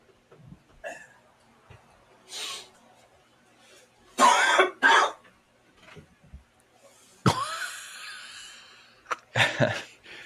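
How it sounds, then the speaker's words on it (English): A man coughs in heavy, rasping bursts, some paired and some single, spread across the moment with quiet gaps between, moderately near over faint room sound. "He's coughing up a lung."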